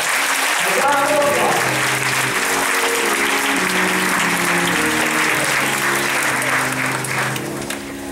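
Church congregation applauding honorees at a Black History program, sustained loud clapping with an organ or keyboard chord held underneath, fading a little near the close.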